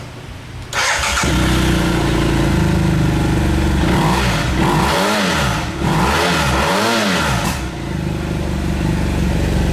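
A motorcycle fitted with an aftermarket Akrapovic carbon fiber and titanium exhaust starts and idles with a deep, throaty note, then is revved hard three times in quick succession, loud and close, settling back to a rumbling idle.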